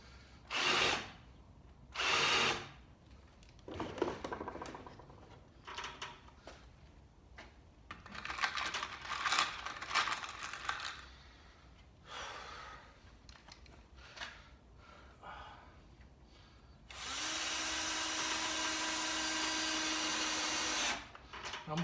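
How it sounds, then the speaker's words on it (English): A power drill with a screw bit countersinking holes in wood for shelves, heard as short whirring bursts and clattering handling noises, ending in a long steady high-pitched drill run close by. "Countersink with the screw bit."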